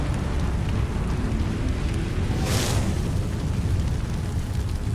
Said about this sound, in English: anything that tries to come close to you is just going to get blown up